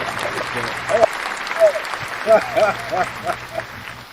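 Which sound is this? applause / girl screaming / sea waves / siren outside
applause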